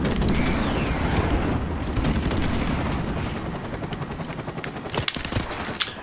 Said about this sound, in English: Shoot that helicopter down.